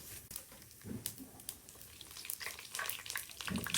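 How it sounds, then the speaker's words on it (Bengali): Whole cumin seeds sizzle in hot oil in a pot for Mughlai-style pulao, a soft crackling fry with scattered pops that grows louder toward the end. "এখানে আমি জিরা দিচ্ছি 1 টেবিল স্পুন।"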